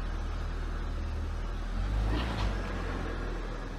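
A BMW E46 330Ci project car starts rolling, a loud, steady low engine rumble that swells briefly in the middle.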